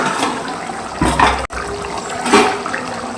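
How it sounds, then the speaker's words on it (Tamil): Puli kuzhambu tamarind curry boiling in a pot, a continuous bubbling, gurgling simmer with a couple of louder surges, heard close and alone. "குழம்பு கொதிச்சிட்ருக்கு."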